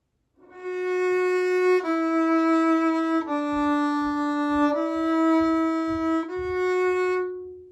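A violin bows a slow, simple melody of about five sustained notes, each held for over a second, played smoothly and clearly alone.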